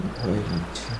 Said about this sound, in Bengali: সমুদ্রের আওয়াজ, ঝিঝি পোকার ডাক